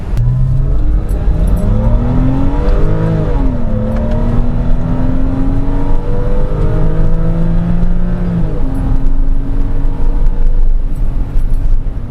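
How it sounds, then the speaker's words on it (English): The flat-six engine of a 2001 Porsche 986 Boxster S with manual gearbox drones loudly and continuously, its pitch climbing through gears with a smooth, steady note and no voices. "so you guys can really listen to that flat 6 engine note"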